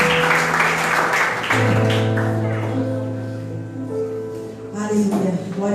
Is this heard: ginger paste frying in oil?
no